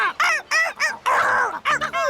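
Angry cartoon seagulls squawk in a rapid series of loud, harsh, rising-and-falling cries, with one longer drawn-out screech in the middle, close up and with no talking.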